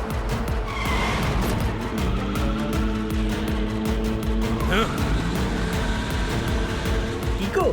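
A cartoon car speeds away with a loud engine roar and squealing tires, mixed with dense animated background sound and voice-like tones throughout.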